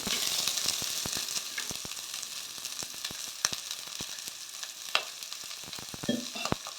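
Vegetables for sambar fry in a pan with a steady, bright sizzle, broken by frequent sharp ticks and spatters and occasional stirring taps. The sound is moderately loud, with no talking.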